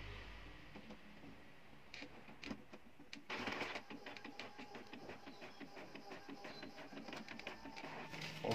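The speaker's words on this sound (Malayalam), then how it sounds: "എന്നാലും ചീർപ്പ് നമുക്ക് ഫോട്ടോ സെറ്റ് എടുക്കും" A photocopier makes a copy of a comb, its mechanism whirring and clicking as paper feeds through, then a rapid rhythmic chattering of rollers and scanning carriage running steadily near the machine, moderately loud with no talking.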